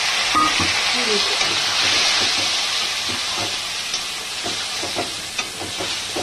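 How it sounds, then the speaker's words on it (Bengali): Spice paste of ginger, cumin and chili frying in a pan, a steady close sizzle with soft scraping stirs throughout, no voices. "মশলাটা একটু ভালোভাবে কষাই বন্ধুরা"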